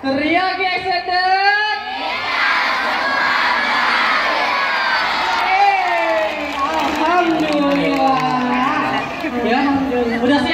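A crowd of young people at a community gathering yells together in one loud, sustained shout that holds for about ten seconds, with individual whoops rising out of the mass of voices.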